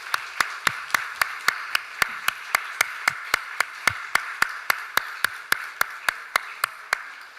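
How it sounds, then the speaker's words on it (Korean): A church congregation claps in steady unison to celebrate baptisms during a Sunday service, with sharp, evenly spaced claps about three per second continuing throughout. "우리 모든 회중들은 우리 박수로 다시 한번 축하하도록 하겠습니다"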